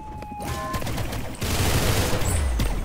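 Gunfire in the Roblox Arsenal shooter game, heard as loud, dense bursts of rapid shots that run continuously and grow heavier in the second half, with scattered game effects over them.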